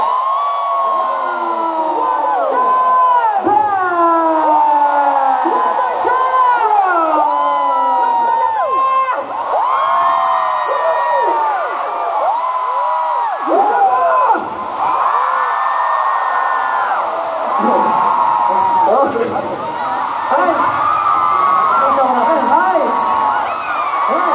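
Concert crowd at a sold-out world tour show in Doha shouting and cheering together in loud, sustained waves of voices that rise and fall, filling the space continuously.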